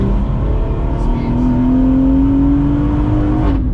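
A turbo-upgraded BMW F22 M240i with a B58 engine accelerates hard in gear, its engine note loud and close and climbing steadily in pitch over several seconds, with a voice briefly audible near the end.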